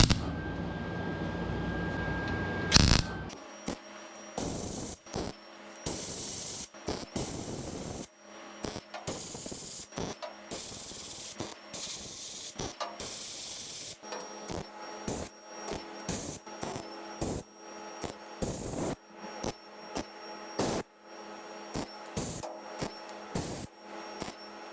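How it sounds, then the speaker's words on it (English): Welding tacks onto the outer rocker panel of a 1971 Volkswagen T2 bay window bus, heard as repeated bursts of harsh crackling hiss separated by short pauses, close and moderately loud, with no voices. "get the welding gear on, and we'll start putting some tacks on"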